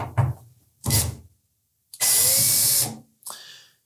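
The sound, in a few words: power drill removing number 2 Phillips screws from Samsung dryer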